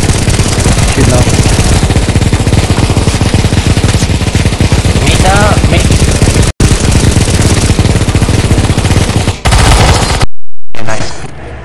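Loud, dense gunfire in a CS:GO zombie escape match, sustained automatic bursts with brief drops near the end, voices faintly mixed into the game noise.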